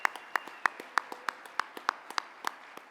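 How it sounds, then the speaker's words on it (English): Sparse clapping at an awards gala honoring nonprofit honorees, a few distinct hands clapping in a quick, fairly regular rhythm with sharp individual claps rather than a full crowd roar. "Let's please give them another big round of applause."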